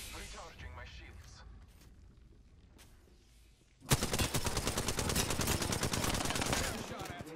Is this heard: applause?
no